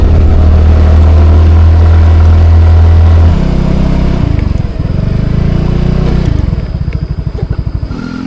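A motorcycle labours up a steep, rough village road near Desa Kalipoh in Kebumen, its engine loud and close in a steady low drone that shifts and pulses as the revs change toward the end.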